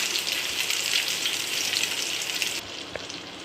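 Savory French toast, a single slice, frying in hot oil in a pan, giving a loud, steady hiss that thins abruptly near the end and then continues more softly, with no voices.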